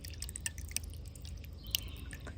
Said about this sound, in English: I actually took the water feature out, and it's just now a soft bubble.